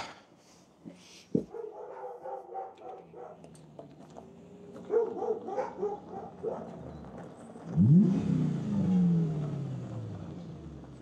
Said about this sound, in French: J'entends les chiens aboyer.